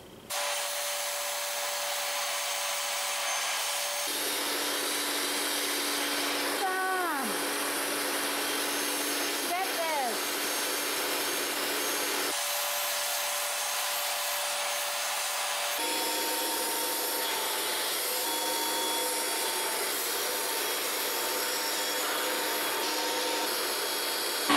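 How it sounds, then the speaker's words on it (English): A vacuum cleaner fitted with a straw runs steadily and loudly throughout, sucking up toaster crumbs, its pitch shifting abruptly several times as the nozzle moves and the airflow changes. "I'm gonna turn on the vacuum and we're gonna go at it."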